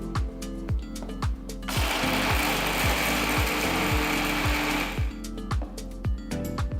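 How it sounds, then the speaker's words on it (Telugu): Small jar of a kitchen mixer grinder whirring through raw mango seasoning with rock salt and turmeric, a loud dense grinding burst of about three seconds framed by rhythmic mechanical clicking before and after. "చూడండి ఇప్పుడు నేను చిన్న జార్లోనే ఇది రుబ్బుతున్నాను."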